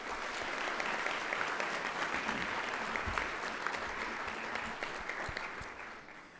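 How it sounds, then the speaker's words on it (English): Audience applause for the speakers at a school convocation at Cushing Academy, a dense, steady clapping from a large crowd lasting several seconds before fading slightly at the end. "Let's give our speakers another round of applause."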